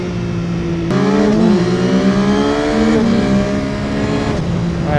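A 2025 Yamaha Tracer 9 GT+ motorcycle engine revs loudly and steadily up close, its pitch dropping sharply at each clunky gear change, roughly three shifts in a row.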